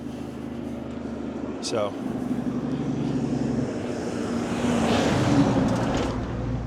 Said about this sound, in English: Here comes a semi.